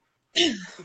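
A single abrupt sneeze bursts out after a short silence, loud and close, with a voiced tail trailing off.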